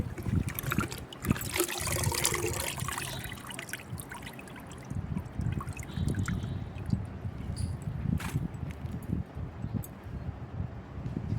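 Water runs and trickles while a cooking vessel is rinsed and washed clean, with splashing and scrubbing sounds close by and no talk.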